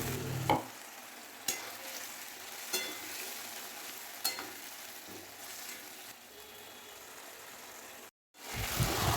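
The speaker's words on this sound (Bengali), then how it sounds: "টসলা দিয়ে ভালো করে নেড়ে চেড়ে একেবারে কষার অপেক্ষা" Mutton curry frying in a pan, stirred and scraped with a spatula: a steady close sizzle broken by sharp scraping strokes every second or so, dropping out briefly near the end.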